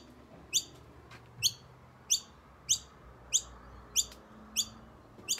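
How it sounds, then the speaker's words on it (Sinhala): Birds in a garden in Australia give a series of about nine short, sharp high chirps spaced roughly half a second apart, clear and fairly near over quiet background hum. "ඔයගලන්ට තේරෙන්න ඇති මේ කුරුල්ලෝ කෑ ගහනවානේ"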